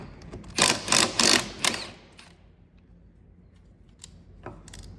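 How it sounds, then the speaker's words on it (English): Impact wrench rattling on trailer wheel studs with a short extension fitted, three or four loud bursts close by in quick succession, then a quiet pause and a brief final burst. "the humble whizzy gun, which I can actually do with the little extension in"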